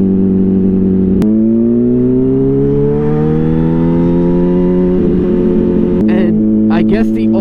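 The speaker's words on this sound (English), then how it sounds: "Let's go, we can hit the gas pedal there," A car engine revs up as the gas pedal goes down, its loud close drone climbing steadily in pitch over several seconds, with a couple of sharp clicks and a brief voice near the end.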